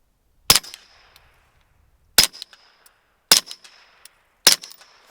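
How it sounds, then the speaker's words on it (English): Four loud, separate gunshots from a Flux Defense Raider at a shooting range, each a sharp crack with a short ringing, metallic tail, spaced roughly a second apart. "It's crazy when you hear the bullets just spinning all out of control."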